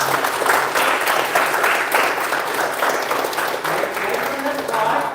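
Loud, sustained audience applause at a closing ceremony, thick and continuous throughout, with cheering voices mixed into the clapping.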